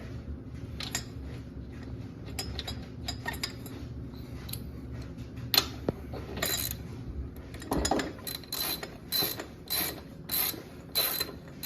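Metal hardware clicking and ratcheting as a nut and washers are fitted onto a Harley Dyna Street Bob shock mount, a series of close, sharp metallic taps and tool clicks, some in quick rhythmic bursts.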